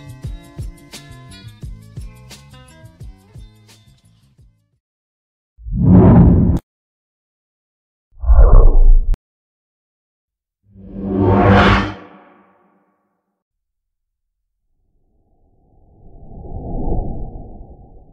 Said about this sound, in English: Let's try the whooshes and movement preset and inspect the results.